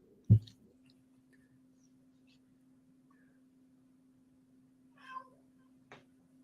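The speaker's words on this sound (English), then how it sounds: "Oh, I hear a kitty." A cat meows faintly twice, brief and spaced apart, over a low steady electrical hum, with a sharp thump near the start.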